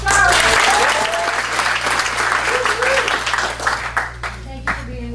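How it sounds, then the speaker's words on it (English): Audience applause for improv performer Laura Mustari, a loud, dense burst of clapping from a crowd that thins out toward the end, with voices and scattered tones mixed underneath. "please put your hands together and give a warm round of applause for Laura Mustari"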